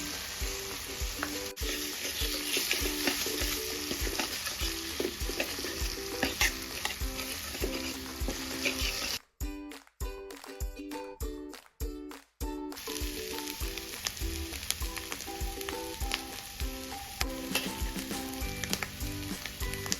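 Fish roe frying in a pan with tomato, onion and garlic for a Bengali-style bhurji, stirred often; a loud, steady sizzle with scraping strokes runs throughout, with short near-silent dropouts around the middle.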